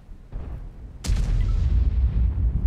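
An E100 heavy tank's main gun fires in World of Tanks: one loud, deep boom that rolls off in a long rumbling tail, preceded by a fainter distant thud.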